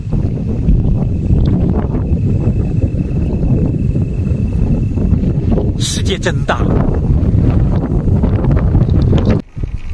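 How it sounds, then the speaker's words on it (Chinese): Strong wind buffets a car on open steppe near a river on the Russian border, a loud, continuous roaring rush against the microphone with a brief sharp rattle, while someone speaks over it. "听到这风声没有？ 把我的车吹得摇摇晃晃的。"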